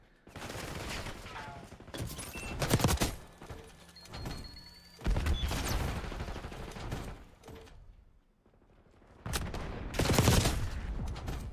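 Assault rifle fire in the shooter game Splitgate comes in loud, dense bursts separated by short pauses, a rapid close-range rattle with a few heavy thunks between bursts.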